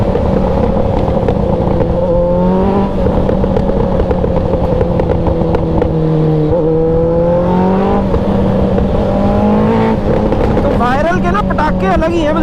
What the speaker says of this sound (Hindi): ट्रैफिक हो रहा है भरपूर पूरा।